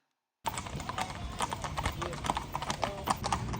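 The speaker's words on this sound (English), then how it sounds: "Horse riders representing various military regiments would ride by once in a while." Hooves of horses carrying riders from military regiments clip-clop past at an outdoor show-jumping championship, a steady walking rhythm of many hoofbeats close by, with a faint whinny and general crowd murmur.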